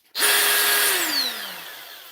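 A DeWalt power tool motor starts abruptly with a high whine, runs briefly at full speed, then spins down with a falling pitch as it coasts to a stop, close and loud.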